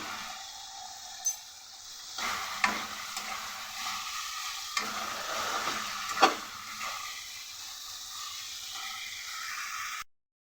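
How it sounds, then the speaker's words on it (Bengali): Spice masala being stirred and sautéed in a pan for a Bengali dish of potol keema: steady soft sizzling, with repeated scraping strokes of a spatula and occasional light clinks against the pan, fairly close, and no voices. "আমার মশলাটা সুন্দর করে কষানো হয়ে গেছে"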